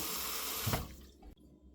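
Water pours from a tap into a pot for mushroom doenjang soup, a close, rushing gush that fades and then cuts off abruptly, with no talk.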